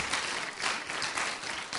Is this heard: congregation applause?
yes